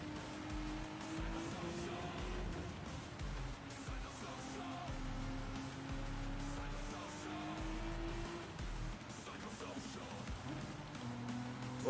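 A Toyota Supra race car in Gran Turismo 7 howls along at sustained high revs with shifting engine pitch and brief tyre squeal, faint and distant beneath a low commentary voice.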